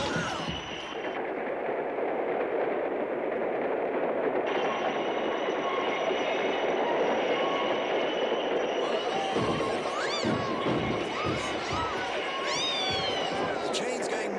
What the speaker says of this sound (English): The train's going much too fast.